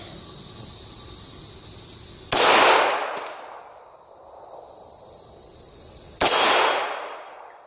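Reloaded 9mm pistol ammunition fired at a range, heard as two loud, sharp reports a few seconds apart, each with a long echoing decay, and no talk over them.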